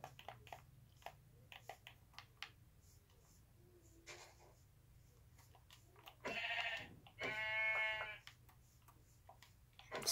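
Two bleats from a sheep in Minecraft, the video game, close together and clear, set among soft clicking taps with quiet pauses between.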